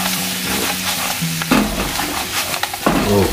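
Squid fried in a pan and stirred, with a loud, close sizzle and oil crackle under repeated scraping strokes of a spatula, the sizzle surging as the pieces are turned.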